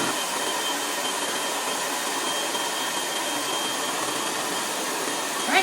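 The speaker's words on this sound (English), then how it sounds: "You can blend this up until all of your pecans and all of your graham crackers are kind of blended up" A blender or food processor grinds pecans and graham crackers into a pie crust crumb, giving a steady, loud, even whir that runs the whole time with no pauses or talk.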